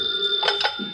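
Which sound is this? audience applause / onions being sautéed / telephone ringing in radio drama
telephone ringing in radio drama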